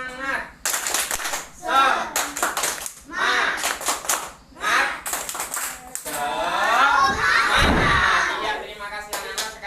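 Schoolchildren in an elementary school classroom perform a rhythmic clapping cheer (tepuk semangat), loud bursts of patterned claps broken by short pauses, with children's voices chanting along and a teacher speaking between.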